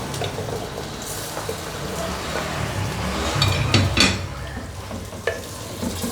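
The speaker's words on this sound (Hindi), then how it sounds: "देखिए अब मैं इसमें चिकन ऐड कर दूँगी" Pre-fried chicken pieces are stirred into roasting masala in a pan, giving a steady sizzle and frying hiss with scraping stirs and a few clattering utensil knocks.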